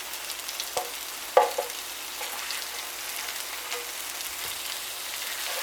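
Sausages, onion, tomatoes and mushrooms fry for a camping breakfast, giving a steady close hiss of sizzling fat with a few sharp clicks of turning and handling the food.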